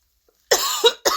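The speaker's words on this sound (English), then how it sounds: "why am I coughing? I got choked on something." Two close, harsh coughs, one drawn out with a throaty catch and a short second one right after, following a brief silence.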